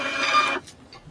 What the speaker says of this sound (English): That sounds like a printer.